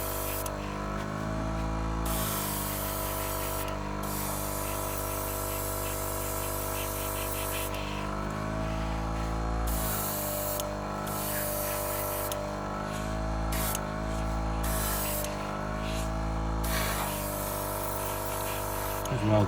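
Noisy spray machine applying a top coat to a batch of twelve 1/72-scale vintage models, a steady loud hiss with a constant motor hum running throughout, pausing and restarting in several short bursts.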